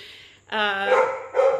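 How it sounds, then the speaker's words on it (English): A dog barks indoors, one short yip followed by a loud, sustained harmonic bark and a second bark close to the microphone. "I'm so sorry about the dog."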